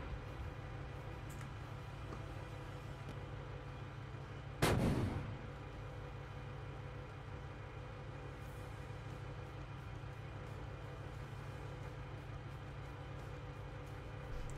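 A tank cannon fires once in the Steel Beasts simulator, a sharp, heavy boom with a short decaying rumble over a steady engine drone inside the vehicle.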